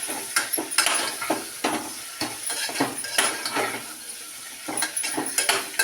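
Mashed boiled potato stirred lightly in a pan, with repeated sharp scrapes and clinks of a metal spoon against the pan over a soft sizzle, in an uneven rhythm.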